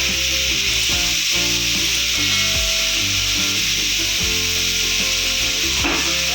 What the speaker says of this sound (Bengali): এবার আলুটাও দিয়ে দেবো। এবার নুন দিয়ে দিলাম। সবগুলোকে ভালো করে ভেজে নেবো।